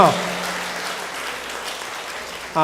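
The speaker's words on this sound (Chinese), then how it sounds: "拍手欢迎你回来" A church congregation claps during a Sunday worship service to welcome a family back from Canada. The applause is steady and close, filling the moment alone, with a voice briefly heard at the start and end.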